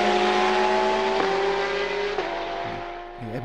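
Porsche and Ferrari GT3 race cars battle at Monza, a loud engine note climbing in pitch with sharp gear-change breaks, fading slightly as the cars pass, with no voices.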